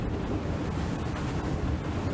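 A Mystic M5200 performance powerboat runs straight into waves, giving a steady, loud roar of hull rush, spray and wind buffeting that holds without a break.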